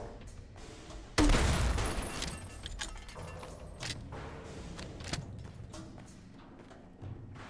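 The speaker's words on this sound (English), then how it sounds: "Let's try the grenade launcher" A grenade launcher fired in Fallout, a loud blast with a crackling burst that decays over a second, followed by fainter clanks, mechanical clicks and scattered impacts.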